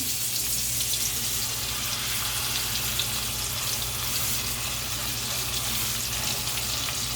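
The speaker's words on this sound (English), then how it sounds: "And put in the pan. So I'm just going to let those cook because they have to get a nice brown on them." A steak fries in a hot pan with a dense, steady hiss and crackle that holds loud and unbroken throughout.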